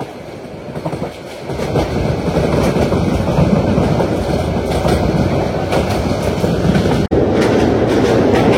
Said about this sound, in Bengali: আমাদের ট্রেনটি এখন আশুগঞ্জ রেলওয়ে স্টেশন অতিক্রম করছে।